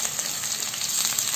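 Crushed garlic dropped into hot oil with mustard and cumin seeds, a dense, even sizzle and crackle close by, continuous for the whole moment with no voice over it.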